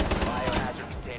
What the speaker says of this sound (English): Oh, I guess I'm playing with a toy shotgun.